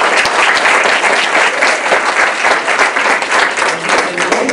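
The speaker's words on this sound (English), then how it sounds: "So I wanted to give a big round of applause." A school program audience gives a technology teacher a loud, dense round of applause, with many hands clapping continuously close by and faint crowd murmur mixed in.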